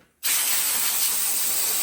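Compressed air blasts onto parts of a fire-damaged 400 small-block Chevy during teardown: a sudden loud, steady hiss that starts abruptly and continues nearby.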